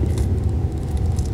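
Engine of a 2019 Mercedes-AMG CLS 53 luxury sports sedan during upshifts, a deep, loud, steady rumble heard from inside the car for a brief moment.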